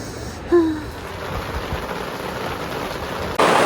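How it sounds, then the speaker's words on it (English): Heavy rain pours down in Ecuador in a steady, dense hiss, with a brief tonal squeak near the start and a louder burst of rain noise at the end. "And now it's pouring rain."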